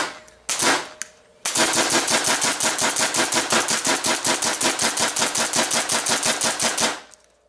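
Paintball gun with pneumatic assist and a Hitman lever, firing cheap basement paint: a single shot, a pause, then a long rapid string of about thirty evenly spaced loud pops, close and alone with no talk.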